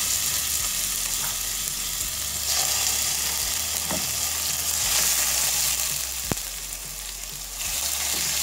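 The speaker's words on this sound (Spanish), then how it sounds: "Calentamos aceite aproximadamente 3 cucharadas. Freímos la carne, vamos a sellar." Beef sears in about three tablespoons of hot oil in a pan, giving a steady, close, broadband sizzle and crackle throughout with a few sharper pops and stirring sounds, no voices.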